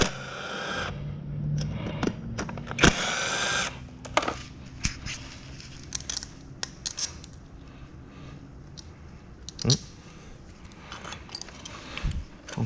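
Bolts being fitted and tightened onto a Mazda Miata rear cover during a Hayabusa swap kit install, with scattered metallic clicks, ratchet and tool rattles, and knocks at close range, no talking.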